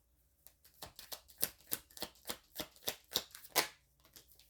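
Playing cards are shuffled and drawn from a deck: a run of crisp riffling and snapping bursts in fairly even rhythm, close and moderately loud, with no talking.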